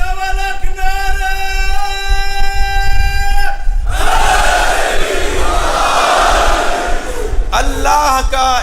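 A large crowd at a religious gathering roars out slogans in loud unison shouts, the chant swelling into a dense wall of voices between sustained solo vocal passages.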